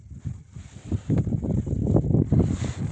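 Gusts buffet the microphone during winter ice fishing in irregular low rumbling bursts, swelling louder after the first second and staying rough and close.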